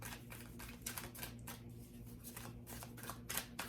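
Tarot cards being shuffled, a quick run of soft riffling bursts and papery flicks at close range, fairly quiet and without talk.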